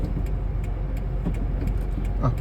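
A car idles and rumbles with a low, steady engine drone from inside the cabin as it pulls off in first gear during a driving lesson, with slight rattles over the hum.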